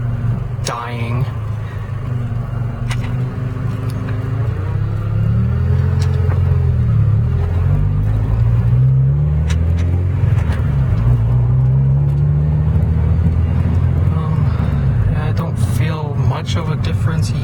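Honda Prelude engine idling low and then pulling away, a close rumbling drone that rises and shifts in pitch as it accelerates, with someone talking over it for much of the time.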